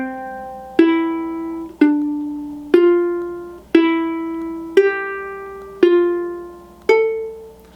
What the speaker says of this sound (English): So I play the first 2 bars of this, just the thumb, so you can hear the melody.